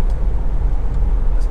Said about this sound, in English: Engine starts absolutely instantly, of course, and settles to completely smooth and even idle